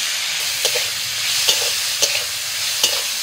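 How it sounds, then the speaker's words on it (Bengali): Shrimp fry in a little oil in a wok, a loud steady sizzle with several distinct spatula scrapes and knocks spaced through it. "কড়াইতে অল্প তেল আছে, দিয়ে দিচ্ছি চিংড়ি মাছ।"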